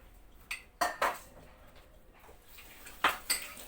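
Dishes and cutlery clatter in a home kitchen while pastries bake: a few sharp clinks in quick succession, a pause, then two more clattering knocks, close and alone.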